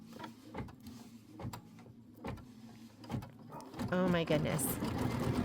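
A domestic sewing machine runs in short bursts, stitching an outline stitch on a Kimberbell Hello Sunshine pieced quilt block, its steady motor hum and needle rhythm close by, with a woman exclaiming and a brighter whirring burst near the end.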